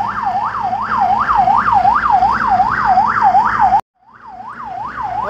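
An ambulance siren wails loudly and up close in a steady, rapidly repeating rising-and-falling pattern while a motorcycle escort leads it to a hospital. The siren cuts out for a moment and then resumes.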